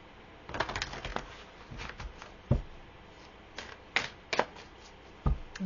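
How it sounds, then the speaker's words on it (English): Tarot cards are shuffled by hand in a quiet room, with soft irregular riffles and slaps in scattered bursts. "Give these a good shuffle."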